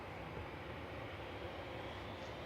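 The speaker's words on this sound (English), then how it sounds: "Sun Express 737-800 with flight 507 going back to Dalaman here." A SunExpress Boeing 737-800 departs Manchester Airport for Dalaman with a steady, broad jet roar at constant strength, heard from a distance without interruption.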